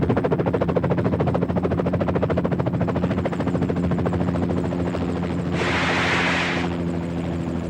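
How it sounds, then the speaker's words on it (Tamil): A helicopter in a Tamil thriller film produces loud, rapid rhythmic rotor thumps that stay close and steady throughout, with a brief rush of hiss midway and no talking. "உனக்காகவே ஹெலிகாப்டர் வெயிட் பண்ணுது"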